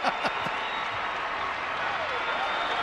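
Crowd applause and cheering at the 2015 Pac-12 women's gymnastics championships, loud and steady throughout after a floor routine, with broadband noise filling the arena and a few brief vocal shouts early on.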